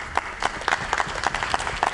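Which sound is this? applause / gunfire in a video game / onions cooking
applause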